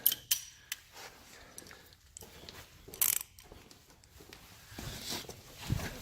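A half-inch ratchet works loose the seat bolts inside a car, giving quiet intermittent clicking bursts and scraping between pauses, heard close up and faint with no talking.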